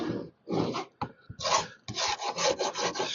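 The edges of dirty frames being scraped clean, harsh close rasping strokes in bursts separated by brief pauses, loud and alone.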